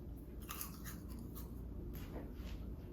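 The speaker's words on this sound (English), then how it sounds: "you ready to hear this crunch?" Crispy air-fried broccoli is bitten and chewed up close, producing quiet, irregular crunching and crackling bursts over a few seconds with no speech.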